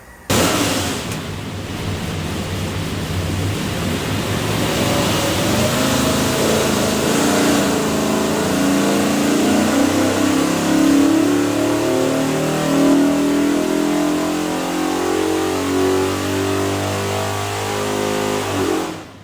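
A 427ci Ford FE V8 built for a 1964 Ford Galaxie runs on an engine dyno, revving loud and steady at full load for a long sustained pull, its deep roar rising in pitch before cutting off at the end.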